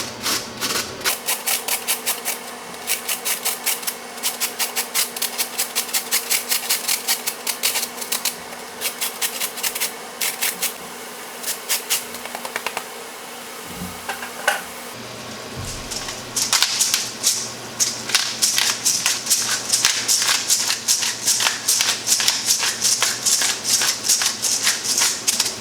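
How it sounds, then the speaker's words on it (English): A knife chops carrots into small pieces on a cutting board for homemade holiday stuffing, with fast, steady, close taps running on and on and a brief pause midway. "You cut these carrots up nice and small so they cook real nice."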